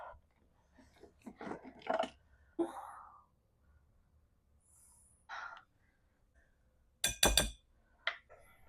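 A bowl being grabbed in a home kitchen in Costa Rica while a papaya cake is prepared: scattered close glassy clinks and taps among quiet handling noises and breaths, with a brief louder clatter near the end.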